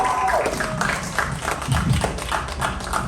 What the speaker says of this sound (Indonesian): Teman-teman boleh dong tepuk tangannya dong teman-teman.